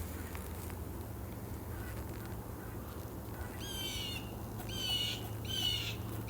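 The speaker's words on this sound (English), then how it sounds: "It's a baby bird on my house." Chirping calls of a baby bird near a house, three short bursts of bright repeated chirps heard fairly close over a steady low background hum.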